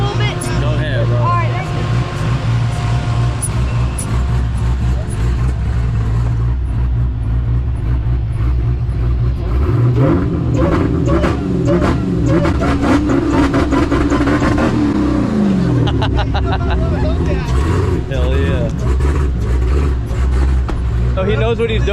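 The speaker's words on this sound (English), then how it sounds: "She's still revving for you." A car engine revs repeatedly at a burnout competition, loud and close, with rising and falling throttle sweeps and sustained high-rpm roaring, while people talk nearby over the noise.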